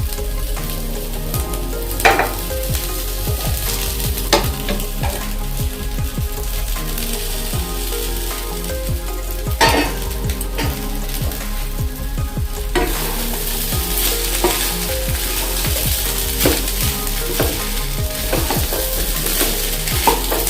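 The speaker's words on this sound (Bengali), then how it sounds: "চালটা সামান্য একটু ভাজবো আমি। এবার এর মধ্যে দিয়ে দেবো সবজিগুলো।" Rice and mixed vegetables for navratan pulao sizzle steadily in a hot pan, with a spoon scraping and stirring at intervals; loud, close and continuous, with no talking.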